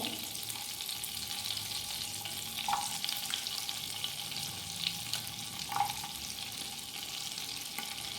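Garlic and ginger fry in melted salted butter with a faint, even sizzle, a couple of light utensil taps standing out, close and quiet with no voices.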